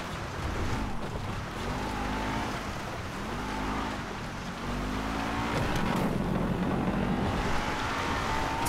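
Car engine in Grand Theft Auto V, a steady revving drone with rising and falling pitch sweeps as the car shifts and accelerates, continuous and fairly loud under wind-like noise, with no talking.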